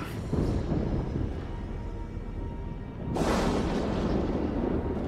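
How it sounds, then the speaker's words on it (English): Magically summoned thunder in The Witcher 2: Assassin of Kings, a low rumbling roar that swells, then a sudden louder crack-like surge partway through, sustained and heavy with no voices. "Summoning thunder."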